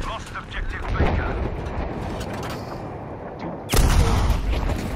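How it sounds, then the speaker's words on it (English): Rocket blasts and gunfire rumble through a Battlefield V match, with a deep boom swelling sharply near the end under continuous excited speech. "here comes our rocket to clean the rest of them out"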